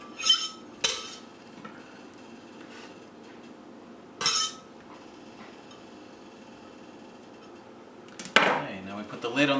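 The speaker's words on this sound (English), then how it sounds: "And again, just chop it all up roughly." Garlic cloves roughly chopped on a board for huevos rancheros give a few separate knife knocks spread apart, with quiet kitchen background between them.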